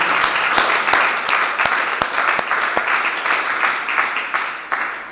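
Audience applause at a gathering honouring a sister and a room-setup crew, steady clapping from a moderate-sized crowd with a few sharper individual claps standing out, lasting several seconds and easing slightly toward the end.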